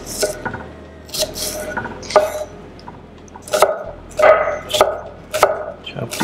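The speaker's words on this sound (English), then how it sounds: "I'm gonna need some green onions. We're gonna go ahead and chop these up." A knife chops green onions on a cutting board in a home kitchen, a handful of sharp, separate knocks spaced irregularly against quiet room tone.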